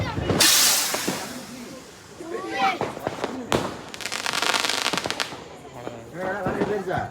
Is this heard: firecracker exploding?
yes